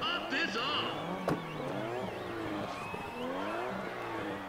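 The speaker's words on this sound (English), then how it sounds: "I can hear the Too Fast, Too Furious Skyline sound." A Nissan Skyline engine from the racing game Need for Speed ProStreet drones and shifts pitch in rising, wavering sweeps, with a tire squeal and faint voices mixed underneath.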